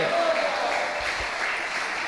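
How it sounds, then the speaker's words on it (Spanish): Congregation applauding for Christ during a Spanish-language evangelical church service, steady broadband clapping that carries through the whole short stretch, with a preacher's voice faintly present over it. "Dele otro aplauso a Cristo, hermano"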